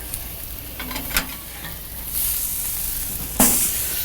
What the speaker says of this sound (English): And get a little sear on the backside